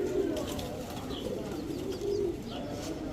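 Rampuri pigeons coo in soft, repeated low murmurs that carry steadily through the clip, with a few faint higher chirps from other birds mixed in close by.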